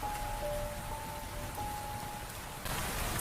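Steady rain falls as an even hiss throughout, with a faint thin tone running through the middle and the downpour growing slightly denser near the end.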